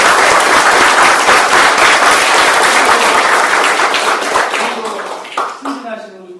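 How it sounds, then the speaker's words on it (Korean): Loud, sustained applause from a crowd fills the room with dense clapping, then thins out and fades as a voice begins speaking. "여기 있는 대상자들을 위해서 박수 한번 쳐주시면 어떨까요?"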